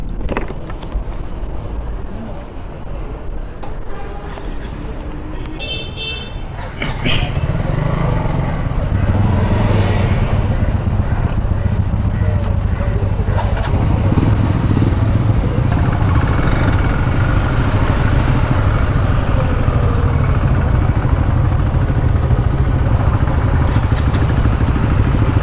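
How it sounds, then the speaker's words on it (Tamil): KTM motorcycles start up for a group ride from Adyar to Mahabalipuram. A quieter stretch gives way about a quarter of the way in to a loud, steady engine drone that carries on to the end, with some voices underneath. "ஓகே, எல்லோரும் பைக் எடுக்க ஆரம்பிச்சிட்டாங்க"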